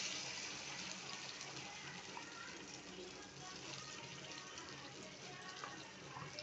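Bun dosa batter poured into a pan of hot oil, giving a steady, loud, close sizzle and hiss that continues without a break throughout.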